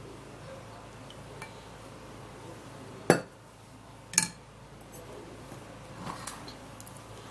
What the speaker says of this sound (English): breaking in the egg, and we're going to be needing the egg yolk as well as a little bit of white